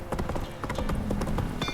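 Hooves of Roach, the horse in The Witcher 3, clip-clop in a quick steady rhythm, close and clear, with faint game sounds beneath.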